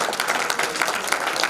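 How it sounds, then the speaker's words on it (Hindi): A crowd at a farewell ceremony for a retiring official claps loudly, a brief burst of dense, close applause with individual claps standing out. "एक बार सभी आदरणीय भाईती साहब के सम्मान में जोरदार तालियां हो जाके"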